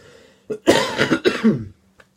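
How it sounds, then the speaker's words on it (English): Several rough, harsh coughs in a short burst, close and loud, followed by a faint final cough after a brief pause. "I'm making those nasty, rough sounding coughs right now."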